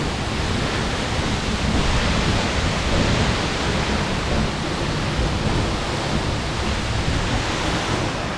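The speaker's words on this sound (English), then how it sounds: "I'm now completely behind the waterfall." Waterfall in Iceland heard from directly behind the falling water: a loud, steady, broadband roar of crashing water that fills the whole clip without letting up, with no voices.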